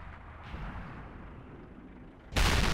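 A single loud tank cannon blast in World of Tanks bursts in abruptly near the end, after a low rumbling stretch, close and booming.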